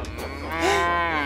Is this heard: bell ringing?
no